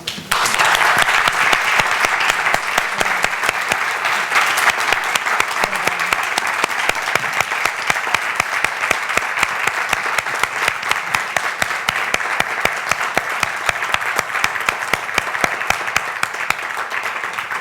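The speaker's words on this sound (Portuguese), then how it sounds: "Acho que as palmas já disseram muito." Sustained audience applause at the close of a lecture, loud, dense clapping from a large crowd that holds steady throughout and tapers only slightly at the end.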